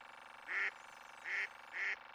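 Three loud nasal quacks in quick succession, close by, with short pauses between them.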